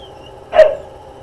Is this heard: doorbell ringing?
no